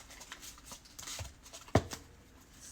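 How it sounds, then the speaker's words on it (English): Tarot cards are shuffled by hand, giving a few soft, close riffling and slapping rustles with one sharper snap, quiet and without talk. "Give these cards a quick shuffle."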